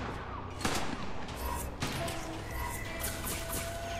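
Gunfire in the video game West of Dead: a dense, continuous barrage of shots and crashing impacts over a constant game soundscape, loud and close, with sharp bursts near the start and middle.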